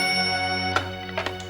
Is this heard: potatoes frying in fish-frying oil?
no